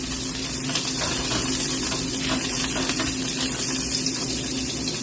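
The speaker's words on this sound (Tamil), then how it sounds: "ஆயில் சூடாயினது பிறகு கழுவி வச்சிருக்கிற ரால் கருவாடை ஆட் பண்ணுறேன்" Washed dried prawns frying in hot oil in a pan, a steady dense sizzle with faint crackles running throughout, fairly close and without talk.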